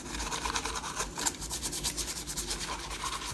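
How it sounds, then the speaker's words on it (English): Rag rubbing paint into EVA foam armour for a Batman costume, a steady soft scrubbing rasp repeated in quick strokes, close and fairly quiet, with no voices. "get an old rag, start kind of just rubbing it"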